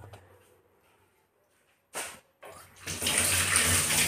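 Water poured into pakora batter for paneer and green chilli pakoras, a quiet start followed by brief splashes and then a steady, louder rushing pour toward the end.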